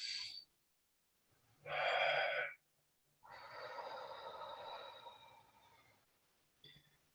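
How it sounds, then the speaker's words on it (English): A deep breath drawn in through the nose and let out through the mouth during a guided breathing exercise; a short sniff, then a strong inhale and a long, steady exhale, close and audible with no talk over it. "We're going to take a deep breath through our nose and let go out through the mouth."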